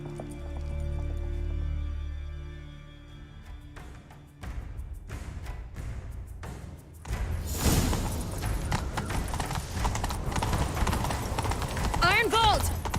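Horse hooves clip-clop and gallop in The Witcher 3, a rumbling, busy run of hoofbeats that picks up halfway through amid game sounds and music.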